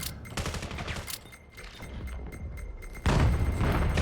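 Grenade blasts and gunfire during a competitive VR shooter match, muffled bursts and thumps followed by a louder, heavier explosion near the end, with a commentator talking throughout.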